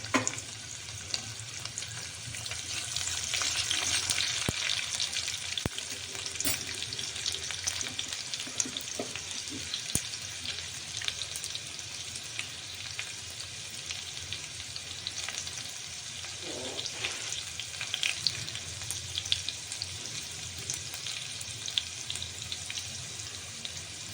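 Garlic frying in a pan while making a fenugreek soup, a steady close sizzle with faint stirring scrapes, no talking.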